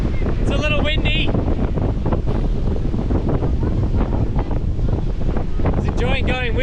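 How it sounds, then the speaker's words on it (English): Wind buffeting a boat at sea, a constant loud roar of rushing air against the microphone with water noise beneath, while a voice speaks briefly over it near the start and end. "It's a little windy."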